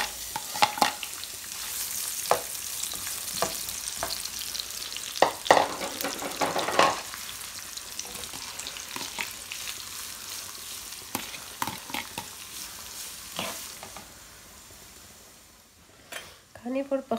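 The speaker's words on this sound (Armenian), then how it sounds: "նույն ձեթի մեջ տապակելու եմ բանջարեղենը" Vegetables fry in the same oil just used for fritters, with a steady sizzle and spatter, occasional utensil clinks and stirring scrapes throughout.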